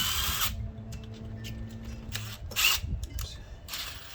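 A power drill spins out valve cover screws on a 1992 Miata engine fitted with a turbocharged 2001 VVT unit, giving short whirring bursts separated by brief pauses amid clinks of metal parts.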